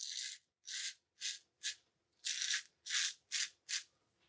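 A dense Wald Nimbus A1 shaving brush spreads Karve Bison lather across a face against the grain, giving eight soft bristly rubbing strokes in an uneven rhythm with short silent gaps between them, close and quiet.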